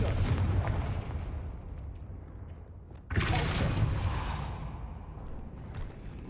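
Confringo fire spell blast in the Hogwarts Legacy video game: a heavy rumbling boom that fades, then a sharp fresh burst midway that rolls on into a long, loud, rumbling tail.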